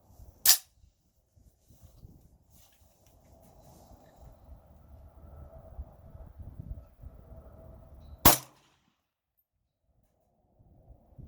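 Two sharp, loud cracks from a suppressed short-barreled rifle fitted with an AAC SDN6 suppressor, firing Brown Bear 196-grain subsonic ammunition, spaced several seconds apart with low ambient rumble between shots.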